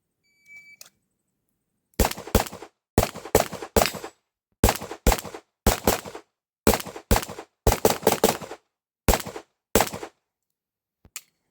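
Handgun fire at steel targets during IPSC Production Division practice: sharp, loud outdoor shots in quick pairs and bursts, about a dozen groups spread evenly over several seconds, each with brief echo, following a short beep and no talking.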